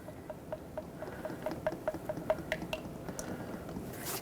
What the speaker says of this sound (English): let's put in our Mercon LV, which stands for low viscosity, transmission fluid in this transmission